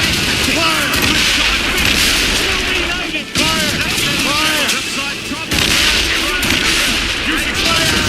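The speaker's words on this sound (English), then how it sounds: "Using fire shot to prevent her escape. Fire! Fire! Fire!" Naval cannons fire from a sailing ship in Assassin's Creed Rogue, heavy booming volleys rolling one after another over several seconds, loud and close, with voices shouting over the barrage.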